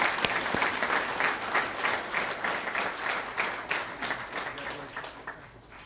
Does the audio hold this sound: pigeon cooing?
no